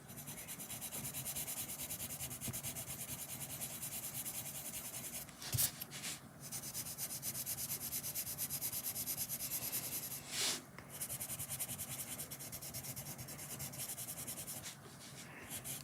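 Coloured pencil shading on paper to smooth out the colour gives a steady, soft, close rubbing scratch that runs continuously with a few brief pauses.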